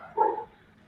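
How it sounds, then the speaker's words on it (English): A single short dog bark, fairly close, followed by quiet. "I don't know whose dog that is."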